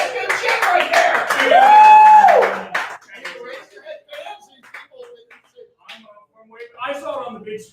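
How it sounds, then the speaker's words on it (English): A live audience bursts into loud clapping and cheering, with a whistle-like shout rising over the din; after about three seconds it fades and scattered claps continue under a talking voice. "How about a round of applause?"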